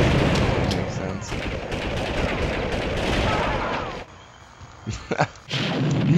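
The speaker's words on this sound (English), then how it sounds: "I hate how they shoot through walls." Enemy gunfire in the video game Army Men 3D, dense rattling rapid shots for about four seconds, a brief lull with a couple of sharp cracks, then the firing resumes.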